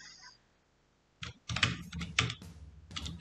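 Keys clatter on a computer keyboard in quick bursts of close, crisp clicks after a brief quiet pause, with no talking.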